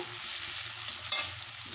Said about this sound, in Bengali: পটলগুলোকে ভাজার জন্য দিচ্ছি।